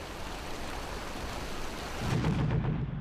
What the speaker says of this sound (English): torrential rain now turned the battlefield into a quagmire.